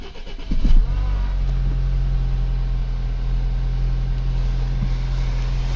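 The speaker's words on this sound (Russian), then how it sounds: "Пробую запускать двигатель." Audi A6 C7 engine cranking and catching after a fuel filter replacement, a brief starter burst flaring into a steady, close idle hum that continues evenly to the end.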